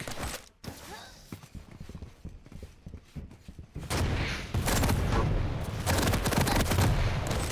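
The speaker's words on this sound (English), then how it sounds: "now we see some rockets from above from Klyb" Rocket launcher fire and explosions from a one-on-one arena shooter duel, loud dense bursts that swell into continuous blasting in the second half, with a commentator's voice partly audible under the action.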